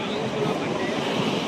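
Sea waves washing ashore at Perupalem beach, a broad continuous surf hiss mixed with wind buffeting the microphone, steady and fairly loud for a brief moment.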